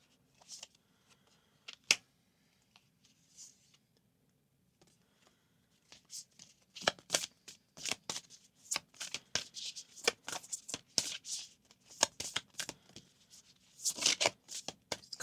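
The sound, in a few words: shuffling large cards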